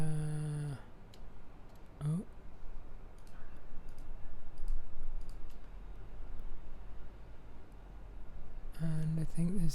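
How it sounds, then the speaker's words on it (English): Sparse, soft computer mouse clicks while selecting files in Logic Pro X, faint against a steady noisy background, with short tonal sounds at the start and end. "So I'm holding command and clicking to select all of them."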